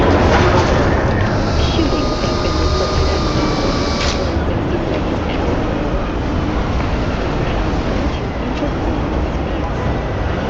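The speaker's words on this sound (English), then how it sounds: "Alright, let's ride the metro." A metro train in Cyberpunk 2077 gives a loud, steady, continuous rumble and roar from inside the carriage for about ten seconds, with a faint high whine near the start.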